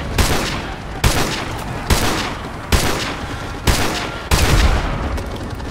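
Sniper rifle gunfire from a Call of Duty: Modern Warfare 2 campaign battle: six loud, sharp shots at roughly even intervals, each with a booming echoing tail that rings into the next.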